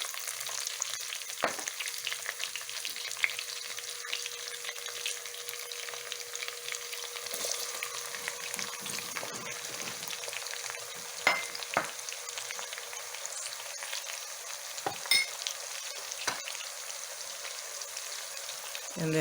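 Onions for jollof rice stew sizzling and crackling in hot oil, a steady bright hiss with scattered pops throughout.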